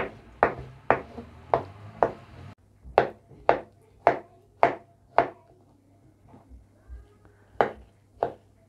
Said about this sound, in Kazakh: Піскен қызылшамызды осылай